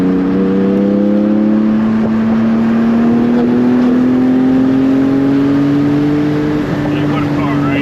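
A Porsche GT3 race car at Petit Le Mans 2025, its engine droning steadily and loud with a slowly rising pitch as it accelerates, sustained throughout.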